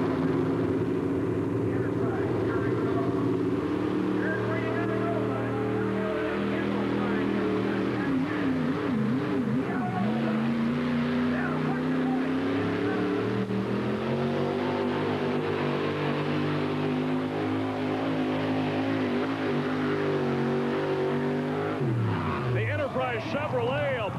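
A Chevrolet four-wheel-drive truck engine roars steadily at a 1991 NTPA truck pull in Rock Springs, its pitch rising and dipping as it strains, with an announcer talking over it throughout.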